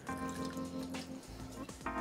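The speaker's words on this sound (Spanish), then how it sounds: "Un chorretón de un buen chacolí de Guetaria" A generous splash of Chacolí de Getaria white wine poured into a roasting tray with lamb shoulder, making a steady close liquid rush that runs throughout.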